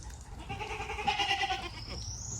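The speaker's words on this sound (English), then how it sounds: "I think we have some hungry goats." Hungry goats on a farm bleat in a short, wavering cluster of calls at moderate distance over steady background noise, with no talking.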